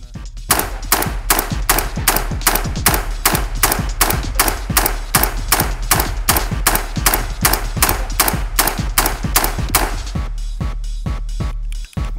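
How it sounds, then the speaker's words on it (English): A Radical Firearms rifle firing steel-cased .223/5.56 ammo in rapid succession: around two dozen sharp, loud, evenly spaced shots crack out over about ten seconds, then stop. "I'm gonna try to rapid fire a little bit, see if I can get it to going in succession."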